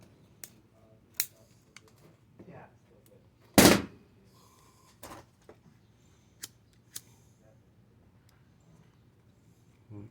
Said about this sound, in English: we're going to cut this off right here